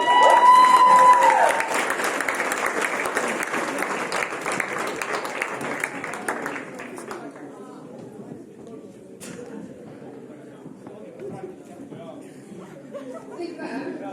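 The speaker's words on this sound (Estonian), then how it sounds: "Aplaus." An audience at the Estonian Liikumispidu 2026 event applauds loudly at first, the clapping thinning out and fading as people begin chatting and laughing in the room.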